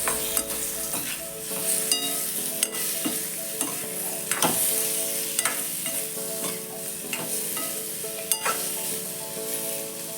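A spoon stirring spiced boiled potato sabji in a pan, steady sizzling with repeated scraping and clinking strokes, close and fairly quiet, with no speech.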